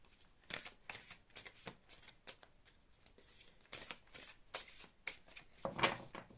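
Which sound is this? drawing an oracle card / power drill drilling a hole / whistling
drawing an oracle card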